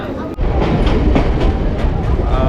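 A crowded local commuter train rumbles steadily nearby, its wheels clattering in a continuous low roar, with faint voices mixed in.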